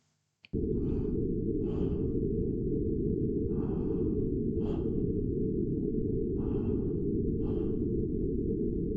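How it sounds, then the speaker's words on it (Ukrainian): Heavy, rhythmic panting breaths of a running man, added as a sound effect, close and loud, repeating steadily over a constant low rumbling background. "сподіваюся вам чути дихання нашого героя, який біжить і начебто дихає"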